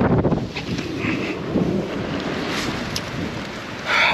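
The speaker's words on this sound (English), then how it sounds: "It is windier than anything I've ever seen out there." Strong gusting wind roars across an open lake after a fishing trip on a Northern Wisconsin walleye opener, with constant loud buffeting rushing against the microphone and no voices.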